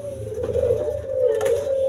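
Caged Iraqi doves (burung puter) cooing nearby, a sustained, rolling, mellow coo that swells toward the end over a low background hum.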